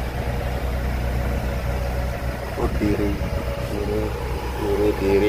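A car engine suffering from blow-by idles steadily with a deep low rumble throughout, while people talk over it close by.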